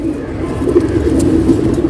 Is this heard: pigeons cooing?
yes